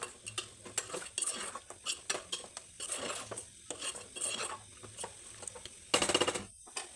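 Boiled chicken pieces are stirred into curry masala in a pan for chicken curry, with close, irregular metal spoon scrapes and clinks against the pan and a sharp clatter near the end, no voices.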